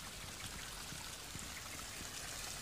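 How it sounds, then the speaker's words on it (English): A small garden waterfall in Ventnor trickles steadily among tropical plants, a continuous soft splashing wash of water with no voices. "It's a little waterfall."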